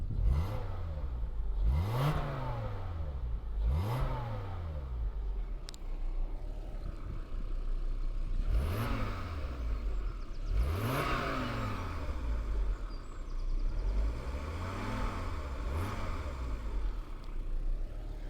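A Renault Safrane with a Volvo 2.5 engine revs repeatedly, rising and falling in several distinct bursts with short idle gaps between them, close and moderately loud.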